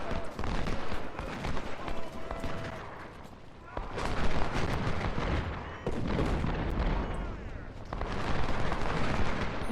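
Dense, constant battle noise from the Civil War strategy game Ultimate General: Civil War, with artillery booms and massed rifle volleys layered over each other, loud and continuous with sharper cracks standing out.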